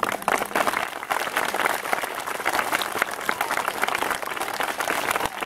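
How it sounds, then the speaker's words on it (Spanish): Audience applause at a school-kit handout event led by a first lady, a dense, steady clapping crowd that keeps going for several seconds, close and loud, with no voices over it. "El aplauso para ella."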